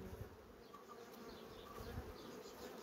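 A close, steady buzzing of many honeybees in a hive rearing queen larvae, a dense continuous drone with no voices.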